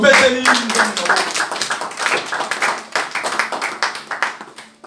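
A church congregation claps in acclaim of Christ, many hands beating fast and close in a lively rhythmic burst that continues for several seconds, with a voice calling out at the start.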